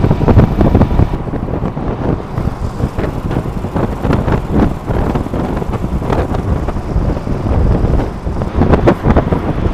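Cold wind roaring past while a motorbike rides through the Atal Tunnel, a loud, continuous buffeting rush with gusty low-frequency rumble that persists unbroken throughout.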